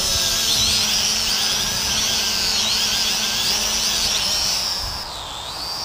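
An SJRC S30W GPS drone hovers in GPS mode, its motors giving off a steady high-pitched buzzing whine that drifts slightly in pitch and dips near the end, with no talking.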